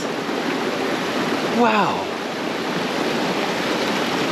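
Oak Creek flowing through a red-rock canyon in Sedona, Arizona, a steady close rush of water throughout, with one short exclamation from a voice partway through.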